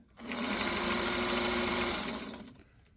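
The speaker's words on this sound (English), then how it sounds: "I'm going to grab another square here and hurry and sew those together." A sewing machine runs in one continuous burst of about two seconds, stitching fabric squares together for a quilt block, with a fast, even whirring hum close by that spins up and winds down.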